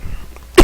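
A single short, sharp cough from a lecturer comes at the very end, after a moment of faint quiet.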